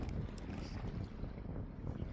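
Wind blowing over Lac la Nonne while fishing from a boat, a low steady rumble buffeting the microphone, with faint water movement underneath and no talking.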